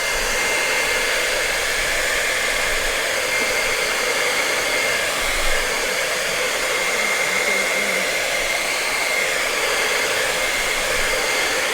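A hair dryer blows steadily over acrylic paint on a canvas, a loud, even rushing hiss that runs unbroken from start to finish with no voices.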